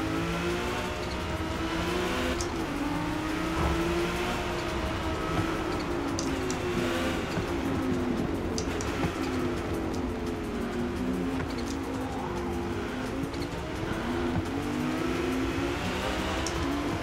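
Engine drone of Porsche 911 GT2 RS race cars lapping Yas Marina Circuit in the Forza Motorsport racing game, a steady loud roar with rising and falling pitch as the cars rev and shift, continuous throughout.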